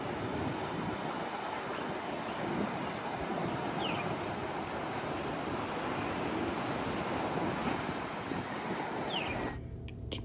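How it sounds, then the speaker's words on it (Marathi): Pacific Ocean surf breaking on a Hawaiian shore near a lighthouse, a steady broad wash of rolling waves with wind, continuous and fairly close, no voices, ending in a sudden cut. "पाण्याचा आवाज घ्या."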